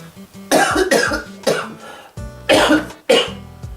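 A man coughs hard in a run of about six harsh, throaty bursts, each with a rasping tail, close and loud with short gaps between them.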